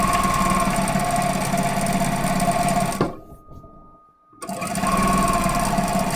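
A Juki DDL-9000 industrial sewing machine with a hemmer foot runs at a loud, steady, humming whir, stops briefly for about a second of near silence, then starts up again and sews on.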